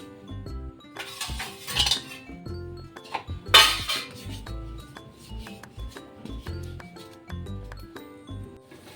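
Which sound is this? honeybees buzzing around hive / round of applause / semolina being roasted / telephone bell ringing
semolina being roasted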